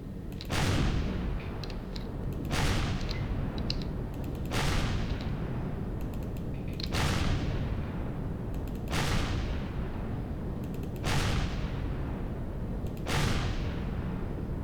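Heavy gun turrets in Empyrion firing at Xirax defences, six booming shots spaced about two seconds apart, each with a sharp crack and a long rumbling decay over a steady low engine drone.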